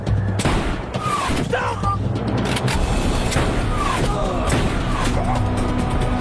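Gunfire in a hostage drama set in the Mali desert, a loud sharp crack opening a stretch of intermittent shots and impacts over a continuous rumbling background, with voices shouting throughout.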